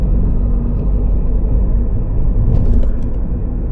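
A VW Golf MK8 fitted with a Trackslag downpipe drones with a steady, low engine and exhaust rumble from inside the moving car, smooth and fairly subdued, with faint clicks partway through.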